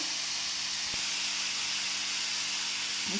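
Radish chutney mixture being sautéed in a pan, giving a steady, even sizzling hiss that runs close and unbroken throughout, with no voices.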